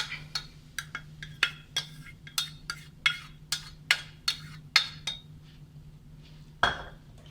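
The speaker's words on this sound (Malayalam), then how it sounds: "ഇനി ഇതിലേക്ക് നമുക്ക് വെന്ത പയർ ചേർക്കാം" Cooked red cowpeas go into a pan for a Kerala-style curry and are stirred, giving a steady run of about a dozen sharp clinks and scrapes from the spoon against the pan, then a pause and one last louder knock.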